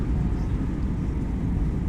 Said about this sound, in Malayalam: കിങ് അബ്ദുൽ അസീസ് എയർപോർട്ടിൽ സ്പേസ് ജെറ്റ് ലാൻഡ് ചെയ്യുന്ന വീഡിയോ ആണിത്